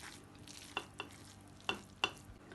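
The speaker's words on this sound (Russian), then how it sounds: "добавляем уксус в рис. И все перемешиваем очень аккуратно" Vinegar-dressed boiled sushi rice being gently mixed, a quiet bed of soft rustle broken by four sharp little clicks of the utensil against the bowl, close and clear.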